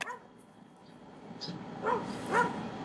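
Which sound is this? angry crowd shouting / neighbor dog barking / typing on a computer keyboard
neighbor dog barking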